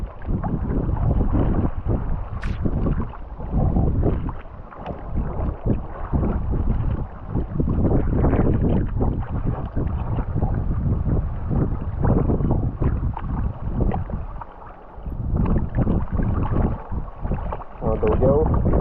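A kayak is paddled along a bay in western Ireland with the wind at its back, rhythmic paddle splashes and water sounds under constant buffeting wind noise across the whole stretch.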